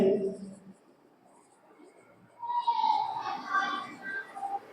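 Chalk or marker scratches and taps across a board in short, close strokes during an English grammar lesson, following a brief bit of a teacher's speech at the start.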